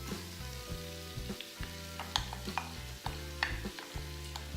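Carrots sizzle in melted butter in a pot, a soft continuous frying crackle with scattered pops and stirring clicks, heard close and fairly quiet under a low, steady hum.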